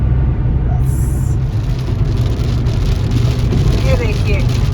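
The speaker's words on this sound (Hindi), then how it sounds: "और अब हमको रास्ते में बारिश मिली।" Rain drums steadily on a moving car as it drives along a road after a sunny start, a dense continuous patter with low road and engine rumble underneath.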